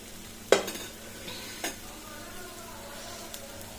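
Oats chilla batter cooking in a lightly oiled pan: a faint, steady sizzle with a couple of sharp utensil taps near the start and a softer clink later.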